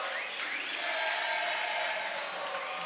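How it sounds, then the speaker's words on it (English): A hometown crowd at an MMA fight in Brasilia roars and cheers in a sustained, distant wash of voices that swells slightly and holds for a few seconds. "the hometown crowd here in Brasilia letting Diego Paiva hear it"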